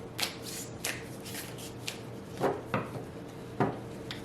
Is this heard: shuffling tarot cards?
yes